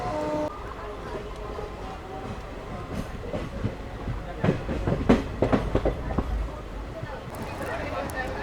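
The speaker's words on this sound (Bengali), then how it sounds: "আমার ট্রেন ছেড়ে বেরিয়ে যাচ্ছে মেসে থেকে।" A passenger train running on rails on the Kolkata to Digha route, with a steady rumbling roll and rhythmic clickety-clack of wheels over rail joints building in the middle, voices faintly mixed in.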